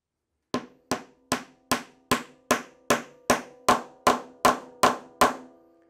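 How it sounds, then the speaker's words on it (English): A steady series of about twelve sharp hammer blows tapping a wooden dowel into a hole, evenly spaced and ringing slightly, close and loud, with no talking. "I'm going to use my hammer to tap it completely into that hole"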